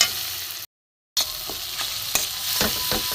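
Soft tomatoes with salt and garam masala powder sautéing in a pan, a steady close sizzle broken by a brief gap, then several sharp scrapes of a spoon stirring against the pan, with no voices.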